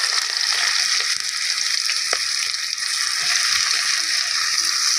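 Onion pieces fry steadily in four spoons of oil for a banana curry, a dense continuous sizzle running the whole time with a few faint clinks and stirs, no voices.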